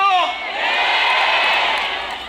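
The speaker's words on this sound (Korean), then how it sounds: "이재명 후보님 도착하시면 건물이 무너질 정도로 환호를 해주셔야 됩니다" A large crowd at a presidential candidate's campaign rally in Suncheon cheers and whoops loudly, a sustained roar of many voices that swells and holds for a couple of seconds.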